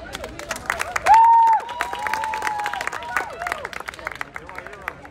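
Crowd applause and cheering at an outdoor Pride picnic as a speaker is welcomed to the stage, dense scattered clapping with a whoop or whistle rising above it and voices chattering throughout.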